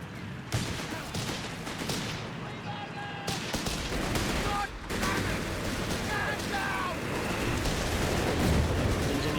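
Heavy gunfire in the WWII strategy game Company of Heroes 3 erupts in dense, overlapping bursts of rifle and machine-gun shots with sharp cracks and booms, loud and continuous with brief lulls and occasional voices.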